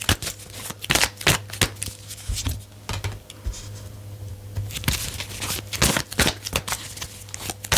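Tarot cards shuffled in repeated quick riffling bursts, crisp papery flutters recurring every second or so against a low steady hum, with no talking.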